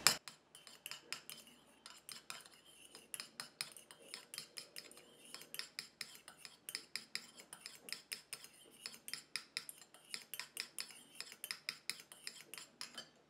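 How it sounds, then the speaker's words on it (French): Ingredients for a solid monoi hair conditioner clink and scrape as a utensil stirs them against a bowl, a steady series of light metallic taps and rubs, close by and with no talk. "et je viens mélanger"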